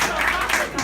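Brief burst of applause for the council leader at a staff event, a short patch of crowd clapping with voices mixed in.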